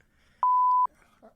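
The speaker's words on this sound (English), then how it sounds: "that's another beep" A single steady electronic beep tone holding for about half a second, clean and moderately loud, with faint background murmur before and after.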